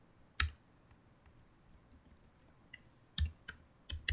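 Computer keys click on a keyboard while a program is typed, a few sharp separate keystrokes and short clustered bursts, close and quiet with no talking.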